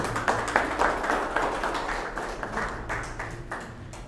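Applause at the opening of a Copedel agency office in Cobán: a moderate crowd claps steadily for about four seconds, sharp hand claps fading slightly toward the end.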